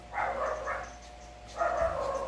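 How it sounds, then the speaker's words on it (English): Several dogs bark at night in a home, two clusters of close, excited barks with a short pause between, no talking. "pardon me for the dogs, okay, it's always noisy"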